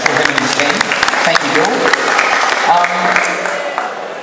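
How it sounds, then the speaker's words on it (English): Audience applause for a guest, the actor who played the dwarf Dori in The Hobbit, with scattered claps forming a steady round over which a voice keeps talking. "So give him a little round of applause,"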